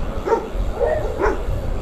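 Dogs bark a few times at dawn beside small rural roads on a trip from Albania to Serbia, three short distant woofs over about two seconds, heard alone with no talk.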